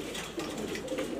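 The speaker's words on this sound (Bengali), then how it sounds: "এই যে 4 পিস কবুতর দেখতেই পারতেছেন" Grizzle pigeons, several females kept for sale, coo softly in short low murmurs, close and fairly quiet, with no one speaking over them.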